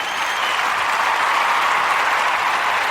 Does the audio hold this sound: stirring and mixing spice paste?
no